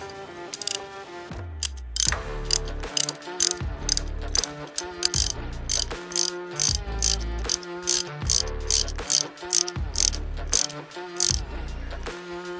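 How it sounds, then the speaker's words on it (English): A ratchet wrench tightens nylock nuts on an off-road flex joint, repeated crisp clicking bursts in a steady back-and-forth rhythm, close and clear with short pauses between strokes. "now we've gone through with the ratchet wrench, got everything pretty well snugged up"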